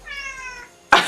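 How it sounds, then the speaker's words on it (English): A house cat lets out one long, clear, close meow that slides and fades, followed by a sudden loud rustle or bump. "Oh, my cat just came in."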